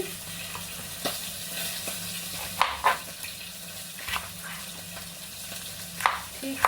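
Fish cooks slowly in a pan with a soft, steady sizzle, joined by a few sharp clicks and taps from nearby kitchen work.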